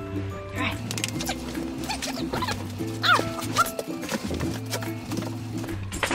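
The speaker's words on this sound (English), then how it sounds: "Oh, my puppies." Puppies whimper and yip in a home bedroom, with short high whines and barks scattered over a background of music and someone talking nearby.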